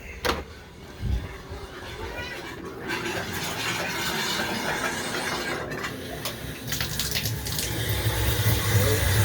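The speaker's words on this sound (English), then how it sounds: "See that the water's running." Water runs from a tap during work on a water heater's expansion tank and anode rod, a steady rushing flow with sputtering bursts as air clears from the line, continuous and fairly close.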